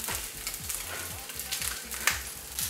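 Sea bream fillets fry in a pan with a soft, continuous sizzle and crackle, fairly quiet and close, with a few faint clicks and spatters and no talking.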